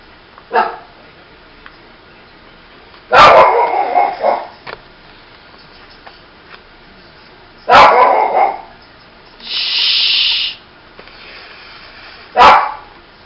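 A dog barks in loud, separate bursts spaced several seconds apart, with a brief hissing noise between them and quiet background otherwise.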